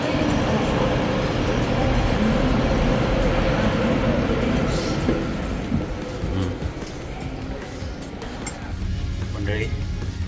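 A EuroCity train travelling from Brussels toward Antwerp in Belgium rumbles loudly from inside the carriage, a constant low roar with rattling and clanking, while a voice speaks over it.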